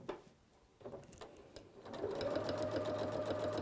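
A sewing machine stitches quilt fabric guided by a quilting template, starting with a few short bursts and faint taps before settling into a steady, fairly loud continuous whir; no talking.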